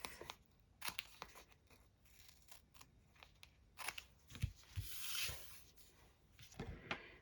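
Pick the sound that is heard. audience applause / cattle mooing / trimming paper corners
trimming paper corners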